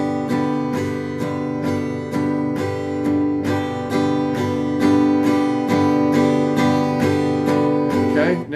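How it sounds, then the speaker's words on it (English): An acoustic guitar chord is strummed in a steady down-and-up pattern, about seventeen evenly spaced strokes ringing into one another, close and loud, with no voice over it. "They're strumming down and they're strumming up."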